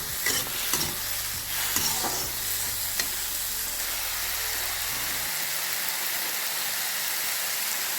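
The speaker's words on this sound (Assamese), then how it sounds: "অকণমান ভাজি ল'ব লাগিব।" Masoor dal with salt and turmeric sizzles in a hot pan while a spoon scrapes and stirs in a few rhythmic strokes, then the frying hiss continues alone.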